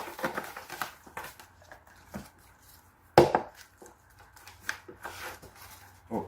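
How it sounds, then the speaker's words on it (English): Knife chopping onion, scallion, thyme, garlic and scotch bonnet pepper on a board: scattered, uneven close taps with one sharper, louder chop near the middle and quieter cutting around it. "so we'll cut up some onion, scallion, thyme and garlic and some scotch bonnet pepper"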